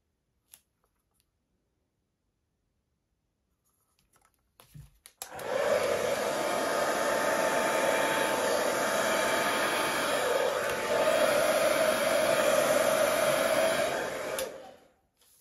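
A hair dryer blows steadily across an acrylic Dutch pour on a marbled base, a loud, continuous close-up whoosh that starts abruptly, holds for about ten seconds with a slight shift in tone, then cuts off.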